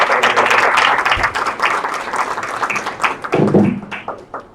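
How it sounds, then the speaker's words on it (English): An audience at a civic how-to session applauds the panelists with a burst of dense, close clapping that thins into scattered claps and a few low thumps before it fades. "Give me another round of applause"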